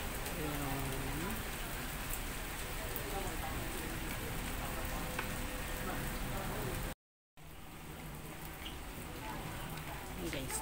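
Steady rain patters on surfaces outdoors in a constant wash of sound, with faint voices underneath and a brief dropout partway through before the downpour continues.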